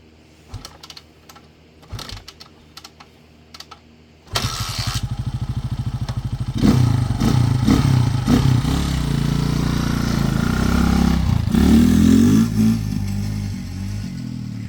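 A 1987 Honda 200X ATC three-wheeler is kicked a few times with sharp, sparse thumps, then catches and fires into a loud, steady idle that swells into hard revving, close and unbroken to the end.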